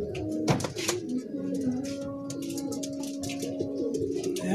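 Pigeons cooing softly amid outdoor background noise, with low, throaty calls and occasional chirps from nearby birds.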